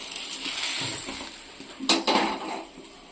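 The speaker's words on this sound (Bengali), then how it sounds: "এবার কড়াই বসিয়ে দিলাম।" A metal wok set down on a stovetop gives a short burst of clanking and scraping, over a faint background sizzle and light kitchen clatter.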